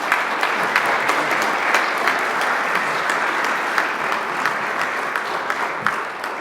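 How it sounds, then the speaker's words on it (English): An audience gives a steady round of applause for Congressman Stephen Lynch at an academy day event, dense clapping from a sizable crowd with occasional sharper claps standing out. "So have a nice round of applause for our Congressman"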